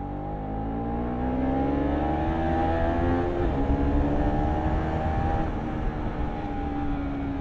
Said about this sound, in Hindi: भाई ये दोनों बाइक का जो साउंड आता है ना, मजाक नहीं भाई, मज़ेदार आता है।